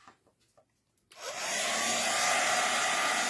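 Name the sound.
heat tool drying ink on a card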